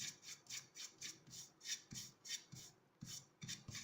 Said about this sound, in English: I'm going to do a dry brushing, loading the bristles with paint and then dry strokes again.